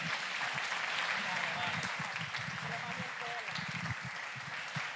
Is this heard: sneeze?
no